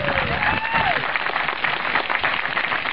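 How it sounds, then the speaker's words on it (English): Applause from an audience at a Republican GOP rally in Bay County, steady dense clapping heard fairly close for about three seconds, with a brief voice or cheer rising over it near the start. "give the Bay County Executive Committee a big round of applause for this rally today"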